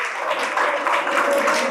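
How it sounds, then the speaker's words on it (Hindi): A crowd applauding steadily, a dense wash of many hands clapping at once for nearly two seconds, with no voices on top. "जोरदार तालियां इनके लिए।"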